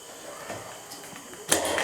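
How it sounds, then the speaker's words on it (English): Metal lid of a Corny keg being set into place, a few faint clinks and then a sharp metallic clatter near the end, close and clear. "We can take our lid,"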